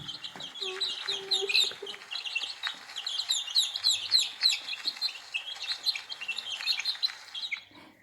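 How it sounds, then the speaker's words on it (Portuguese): A baby chick peeping, rapid high-pitched cheeps repeating steadily and close for several seconds, with faint background sounds. "É o pintinho, cabe aqui, ó, na minha mão."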